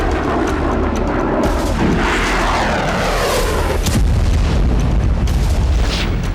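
Heavy booming blasts from missile strikes in the Russia-Ukraine war roll out with a dense, rumbling, continuous roar, loud and close, with no voices over them.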